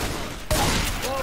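A burst of gunfire from the zombie shooter game Left 4 Dead 2, a sharp loud crack cutting through a dense, steady wash of game noise in a short moment.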